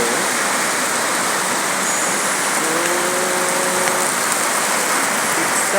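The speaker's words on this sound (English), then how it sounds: "It started to rain." Steady rain falls outdoors, a dense even hiss that fills the whole stretch without letting up, with no voices over it.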